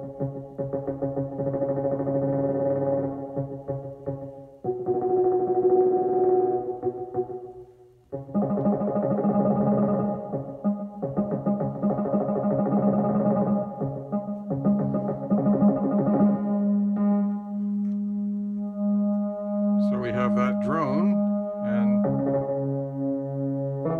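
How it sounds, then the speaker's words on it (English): Easel synthesizer arpeggiator in ascending mode, its speed stepped by the sequencer, plays a continuous buzzy, harmonically rich tone pattern with shifting pitches and brief pauses; steady and moderately loud, no talking. "the sequencer steps are then changing the speed of the arpeggiator. And I have it in ascending mode."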